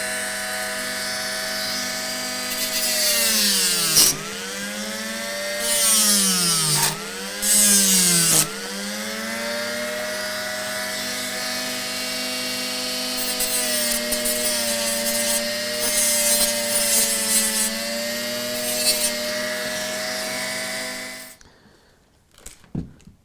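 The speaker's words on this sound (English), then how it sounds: "there's nothing like a good old Dremel" A Dremel rotary tool cuts wood for model railway track in a freight yard layout, a steady high-pitched whine with harmonics that dips and bogs three times as it bites into the wood, running continuously for about twenty seconds before stopping.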